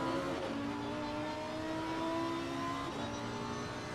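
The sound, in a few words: Lamborghini race car engine revving and changing gear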